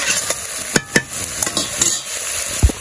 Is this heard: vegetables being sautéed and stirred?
yes